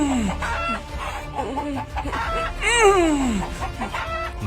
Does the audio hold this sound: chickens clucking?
yes